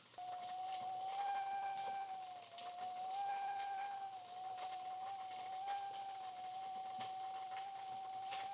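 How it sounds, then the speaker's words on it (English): SilverAnt titanium rice cooker releasing steam with a steady, thin whistle over a soft hiss, the tone wavering slightly but continuous throughout, close and alone with no talk. "Now you're going to start hearing whistling."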